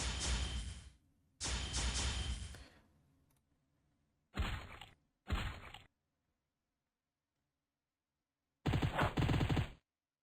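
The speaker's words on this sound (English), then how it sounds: "He's got a machine gun." Machine gun fire in the DragonFable video game: loud, close bursts of rapid shots, two long volleys followed by short separated blasts and a final burst, with silent gaps between.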